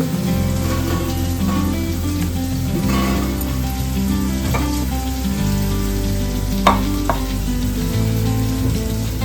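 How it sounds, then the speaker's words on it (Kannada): Garlic frying in a pan until brown gives a steady, close sizzle that runs through the whole stretch, with a few sharp pops and scrapes partway through and no voices. "ಬ್ರೌನ್ ಕಲರ್ ಬರೋವರೆಗೂ ಫ್ರೈ ಮಾಡಬೇಕು ನಾಲ್ಕು ಹೆಸರು ಬೆಳ್ಳುಳ್ಳಿ"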